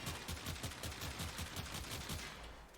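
Akjagara Prime dual pistols fire in Warframe, a rapid, continuous burst of sharp, punchy shots with a quick rhythmic cadence, loud and close, fading slightly at the end.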